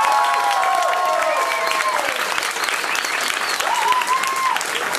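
Loud, continuous audience applause on a television show, dense clapping throughout with faint whoops or voices rising above it at moments.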